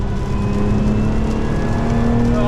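A supercharged Lotus Emira V6 with a manual gearbox accelerating in wind and rain, a loud, steady engine drone with a rising whine and no one talking over it.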